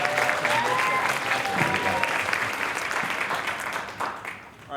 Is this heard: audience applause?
yes